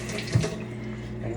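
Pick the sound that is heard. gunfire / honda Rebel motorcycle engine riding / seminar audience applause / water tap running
water tap running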